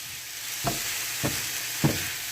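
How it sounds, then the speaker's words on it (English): Cilantro cooking down in a pan for party wings, a continuous close sizzle with three evenly spaced stirring scrapes, no one talking. "now we're going to cook this down until the cilantro dry out"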